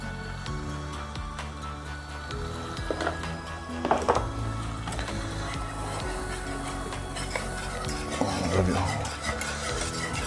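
Flour being stirred into a sauce in a pan over a lowered flame while making lasagne, with steady scraping and mixing against a dense background hum and occasional clatter of the utensil.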